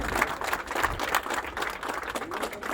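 A crowd at a farmers' protest in Strumica claps in sustained, dense applause, steady and fairly loud throughout with no pauses.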